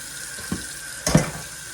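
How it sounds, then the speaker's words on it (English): A kitchen tap runs briefly while food is rinsed in a home kitchen. Two short splashy bursts of water sound close by, with no talking. "I'm gonna rinse this off."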